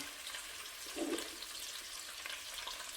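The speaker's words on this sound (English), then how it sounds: "So we're going to add this onion in right now." Onion sizzling in a hot pan after browned sausage, a soft steady hiss of frying with faint crackles throughout, quiet and close, no talking.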